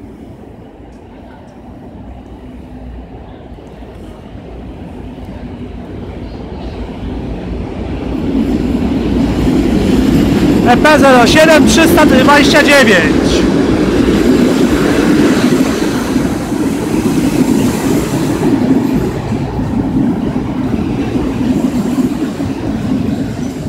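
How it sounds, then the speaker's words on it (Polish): A TLK Delfin passenger train from Łeba to Warszawa Zachodnia rumbles into the station and grows louder, wheels clattering on rails with a brief metallic squeal, then a sustained heavy rolling noise near the platform. "Jeżdża pociąg TLK Delfin relacji Łeba Warszawa Zachodnia."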